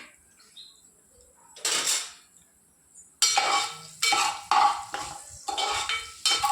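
Spices for rajma are stirred in a pan with a metal spoon, several distinct bursts of scraping and clinking separated by short quiet gaps, close and fairly loud.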